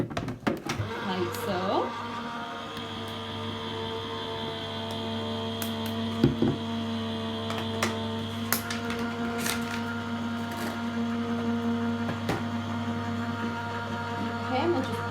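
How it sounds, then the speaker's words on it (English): Gemini die cutting machine feeding a plate through its rollers, a steady motor hum with faint mechanical clicks and rustles, while a person speaks briefly. "I'm going to take my Gemini plate and run this through my die cutting machine"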